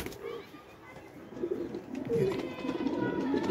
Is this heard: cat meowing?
no